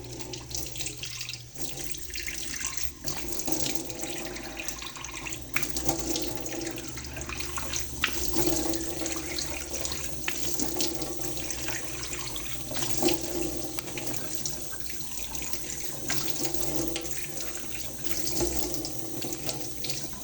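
Tap water runs steadily into a sink during rinsing, a continuous close splashing rush with small shifts as the flow is interrupted, with no voices.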